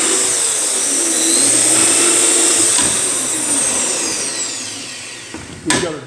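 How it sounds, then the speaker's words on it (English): A power drill bores a hole with a depth gauge, a steady loud whirring grind that holds for several seconds, eases off, then ends in a short final burst. "And we're going to drill this one out."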